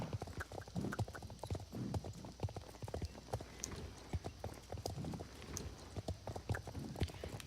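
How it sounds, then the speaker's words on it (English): Horse hooves clip-clopping with rattling tack in the Star Stable video game, a steady rhythmic gait of sharp hoof strikes and jingling equipment, fairly faint and continuous. "the horses did used to have a little bit of rattling to their equipment"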